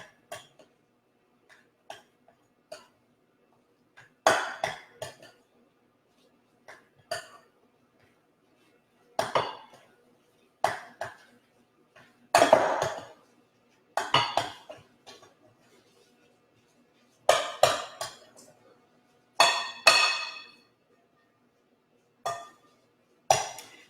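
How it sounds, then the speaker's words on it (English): Beet slider patty mixture being mixed in a bowl: a series of separate clinks, scrapes and knocks of a utensil against the bowl, fairly close, in irregular bursts with quiet gaps between them, no talking. "We're just going to mix this all together."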